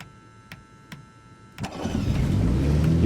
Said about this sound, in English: Turn the ignition switch to start.